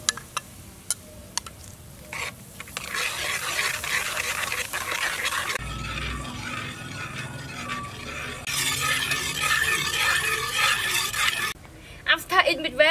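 Jelly powder stirred into Coca-Cola in a cooking pot, with continuous scraping and swirling strokes that are moderately loud and close, broken by brief pauses and a few sharper knocks near the end.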